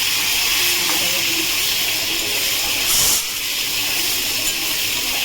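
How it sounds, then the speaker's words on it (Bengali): Potatoes frying in hot oil in a home kitchen, a loud continuous sizzling hiss throughout with one brief surge near the middle. "এবার আমি এই তেলের মধ্যে আলুটা ভেজে নেব।"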